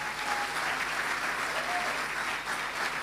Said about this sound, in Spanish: ¿Cuánto le dan un fuerte aplauso al Señor esta mañana?